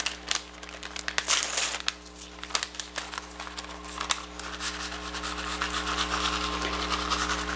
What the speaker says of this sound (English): take 1 packet of dry onion soup mix and sprinkle it